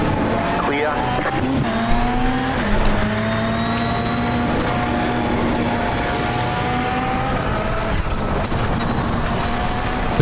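A VW Beetle Lite rallycross car races at Phoenix in the iRacing sim, its engine droning loud and steady throughout, pitch rising and dipping with gear changes, with faint tire scrubbing.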